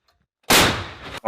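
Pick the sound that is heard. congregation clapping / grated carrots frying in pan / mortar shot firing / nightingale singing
mortar shot firing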